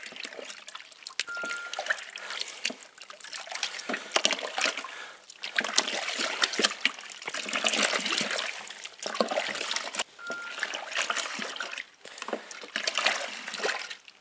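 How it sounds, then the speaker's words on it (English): A sterilised mixing paddle stirs water and dissolving ingredients in a homebrew fermenter, giving soft sloshing and trickling swirls in uneven waves, fairly quiet and close with no voices. "Now we're going to dissolve it with our sterilised mixing paddle. Keep stirring it until all the ingredients are dissolved."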